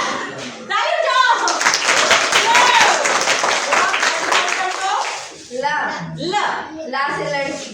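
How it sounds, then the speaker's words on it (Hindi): Children at a school art-and-song event in Narharpur clap their hands together in a sustained burst of group applause, mixed with young voices chattering and chanting close by. "ताली बजाओ।"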